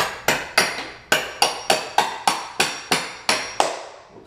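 A hammer taps pieces of a Shipyard Ink table together, about a dozen sharp, evenly spaced knocks in a steady rhythm, close and loud with no talk.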